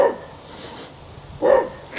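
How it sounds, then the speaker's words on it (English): A passing dog barking outdoors in a front yard: a few sharp barks, one at the start, one near the end and a louder one in the middle, fairly close, with no talk. "A dog just passed by."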